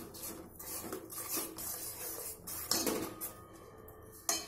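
Horse gram paste is stirred in a pot with a utensil, giving soft rubbing scrapes and light metallic clinks at an irregular pace, close and quiet.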